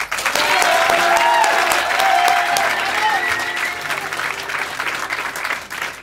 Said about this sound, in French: On va les encourager très fort à chaque fois. On peut les applaudir?